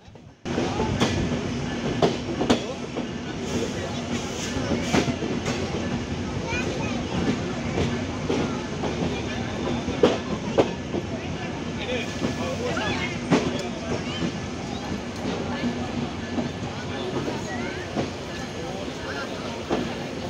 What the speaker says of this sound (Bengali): চিত্রা এক্সপ্রেস ট্রেন প্রবেশ করলো কুষ্টিয়ার আলমডাঙ্গা রেল স্টেশনে